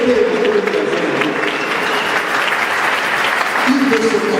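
Church congregation applauding and cheering in acclaim during a French-language worship service, a dense sustained wash of clapping with a voice speaking over it throughout.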